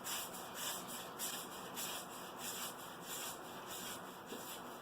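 An OmniShaver razor drawn over skin makes a close, soft, continuous rasping scrape with a gentle pulsing rhythm of strokes, heard alone without talk.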